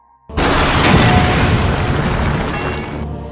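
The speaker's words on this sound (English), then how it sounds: "outside the church, Elsa was ready with an RPG. She then fired it at the church." An RPG rocket strikes a church in a film, a sudden loud explosion that bursts in and sustains as a heavy roaring rumble for about three seconds before cutting off.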